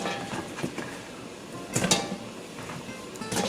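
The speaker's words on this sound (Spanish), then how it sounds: "Voy a poner todo en mi cantín, en lo que se pone." Chopped carrots and vegetables dropped into a metal cooking pot for beef broth, giving a few clattering knocks and scrapes against the pot, fairly faint, with no talking.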